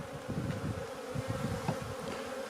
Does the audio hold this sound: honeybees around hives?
yes